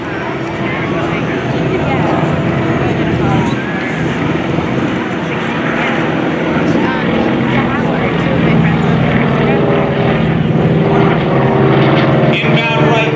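A Beechcraft Twin Beech twin-engine propeller aircraft passes during a WWII flyover, its loud continuous droning engine roar filling the scene while a voice talks over it throughout.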